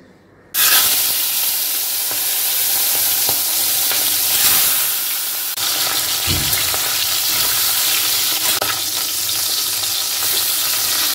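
Hilsa fish head fries loudly in hot oil for spinach chorchori, a strong, continuous sizzle that starts suddenly and holds steady, with faint clinks and bumps now and then.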